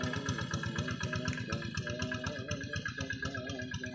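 A tractor engine plowing a rice field chugs in a steady, fast, even rhythm, moderately close and fairly quiet, with no voices.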